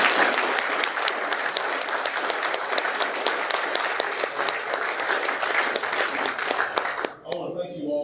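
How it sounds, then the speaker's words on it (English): An audience at a Senate District 34 candidates forum applauds the candidates: dense, loud, sustained clapping that carries for about seven seconds and then stops abruptly. "let's give our candidates a warm round of applause."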